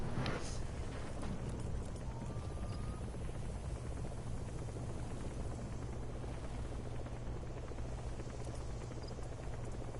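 A helicopter arrives in Metal Gear Solid 5: The Phantom Pain, its rotors making a steady, loud, dense rumble that holds at the same level for the whole stretch, with no voices over it.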